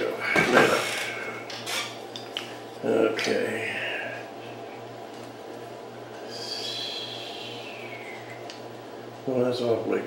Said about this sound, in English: I'm going to do a little bit more polishing right here on this